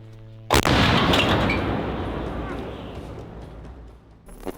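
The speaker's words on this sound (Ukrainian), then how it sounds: "Постріл!" A single massive howitzer blast booms out suddenly, then a long rumbling echo slowly fades away; no talking is heard.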